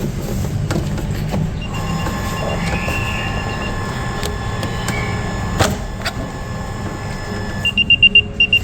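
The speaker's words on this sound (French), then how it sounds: "tu vas entendre le petit bip bip." Over a low hum inside a rental car, an AirTag tracker gives a few quick high-pitched beeps near the end.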